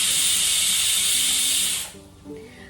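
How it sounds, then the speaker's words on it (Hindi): A kitchen pressure cooker lets off its whistle, a loud, steady steam hiss that runs for nearly two seconds before cutting off abruptly into quiet background sounds. "तो ये व्लॉग यही एंड करते हैं इस कुकर की सीटी के साथ।"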